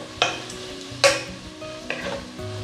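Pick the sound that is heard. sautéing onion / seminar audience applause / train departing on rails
sautéing onion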